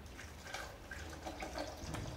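Water pours into a blender jar over lentils, a faint, steady trickling and splashing stream with soft gurgles throughout.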